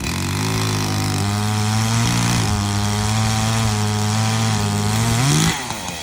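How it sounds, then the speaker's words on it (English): A 16-inch Echo chainsaw runs loud and close outdoors, its two-stroke engine holding a steady buzzing rev that rises briefly before dropping off sharply at the end. "We got our little chainsaw going."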